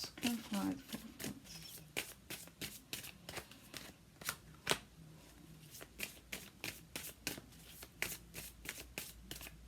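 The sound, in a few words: shuffling tarot cards to pull clarifiers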